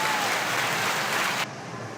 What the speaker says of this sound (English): Clap from the fans.